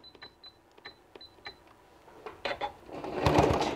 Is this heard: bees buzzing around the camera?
no